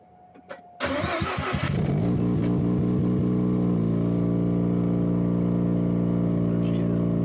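A Mazda RX7 engine cranks with a few rapid starter pulses, then catches and settles into a loud, steady idle that continues to the end.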